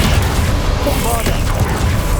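A Bombarda blasting spell detonates in Hogwarts Legacy, a loud, dense boom rumbling under the spellcaster's voice amid continuous battle noise.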